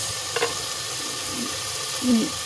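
Whole spices, including cardamom, sizzle steadily in a pan and are stirred now and then, with brief scraping strokes over a constant frying hiss.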